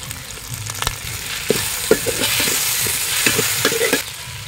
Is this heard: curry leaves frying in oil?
yes